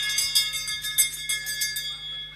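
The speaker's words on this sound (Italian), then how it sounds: "Ultimo giro, suona la campana" A bell rung for the last lap of a youth women's 5000 m points race at the European Championships in Italy, struck repeatedly in a steady series of bright metallic clangs over a low constant hum.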